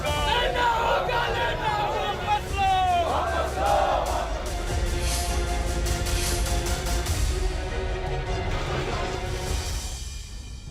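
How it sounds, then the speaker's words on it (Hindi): A violent riot crowd in Masaurhi near Patna, Bihar, during the Agnipath protests: many voices shouting and yelling together in a dense, continuous roar, with individual cries rising above the din. "पटना से 40 किलोमीटर दूर मसौड़ी में हिंसक भीड़ ने तस्वीरें देखिए कैसे तांडव मचा"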